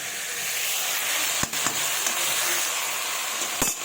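Ground spice paste of dried red chilli, cumin, ginger, onion and coriander hits a hot pan for fish curry, giving a loud, continuous frying hiss with a few sharp scraping clicks.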